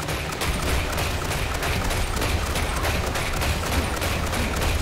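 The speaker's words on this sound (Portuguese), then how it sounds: "Esse aqui acho que é pra atirar, na verdade, no Darkseid" Dense, continuous video-game gunfire from LEGO DC Super Villains, fired at Darkseid, comes as a rapid crackling barrage of shots with no pause for about five seconds.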